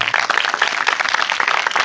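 A church congregation claps loudly and steadily during a sermon, a dense continuous round of applause with no pause.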